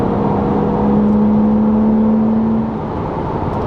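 A Porsche Cayman 987 S engine sings at high RPM, a steady loud mechanical drone with a sustained rising tone held for about two seconds, close and continuous with no talking.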